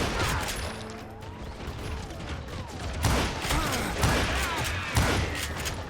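Gatling gun fire in the Western shooter Call of Juarez: Gunslinger, loud rattling bursts and heavy thuds with ricochet whines and mechanical clatter, peaking in several strong volleys.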